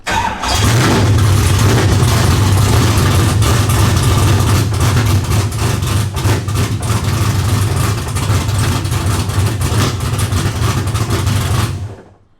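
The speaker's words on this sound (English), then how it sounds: "So car fires up." A Nissan S13 fitted with a 6.0 LS V8 and a Holley Terminator X fuel injection system cranks and fires up, then settles into a loud, close, lumpy idle with small blips that runs steadily until the sound cuts off.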